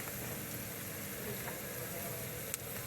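Onions sizzling in a hot pan while pansit with chicken is being cooked, a steady dense hiss of frying that runs unbroken throughout, fairly close.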